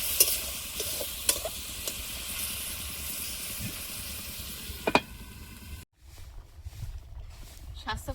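Potatoes frying with a green chili as a paste of cumin, turmeric and salt goes in, a steady loud sizzle with clattering stirs, dropping away to quieter bubbling near the end.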